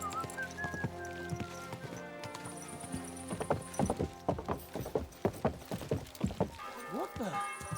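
Horse hooves clip-clopping in Kingdom Come: Deliverance II, a rhythmic run of sharp, close hoof strikes that starts after some quieter ambience and music, with speech heard early on.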